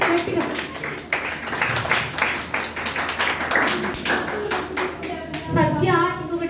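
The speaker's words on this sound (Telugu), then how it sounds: "సత్యకి గట్టిగా క్లాప్స్ కొట్టండి గట్టిగా." Children at a summer camp clap loudly for a classmate, a dense run of hand claps close by that fades into scattered claps, with young voices chattering at the end.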